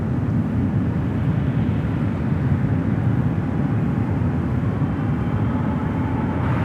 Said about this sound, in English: the 777 now rolling down at 28 left